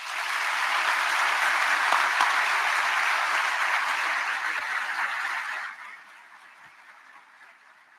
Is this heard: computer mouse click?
no